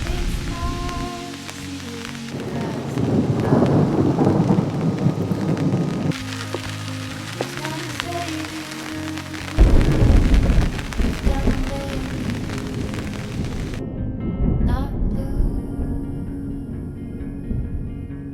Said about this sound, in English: the lightning is crazy, like crazy